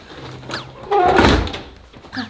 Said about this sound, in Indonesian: Kunci pintu itu